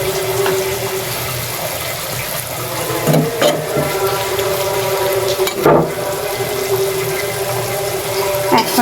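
Vegetable bhaji sizzles steadily in a pan in a home kitchen, with a continuous close frying hiss and a couple of brief louder clatters of stirring partway through; no one speaks.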